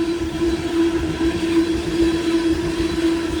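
A long northbound Union Pacific freight train loaded with rock rumbles past at Stassney Lane, a loud, steady roar of rolling cars with a constant grinding tone and no pauses.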